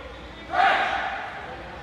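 The Crease Crashers, a lacrosse team playing in a league final, give a short group huddle cheer. It comes as a single loud burst of shouting voices heard a little way off, then fades into crowd noise.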